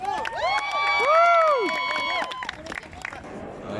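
A crowd cheers and shouts together in a loud swell that fades into scattered clapping and noise.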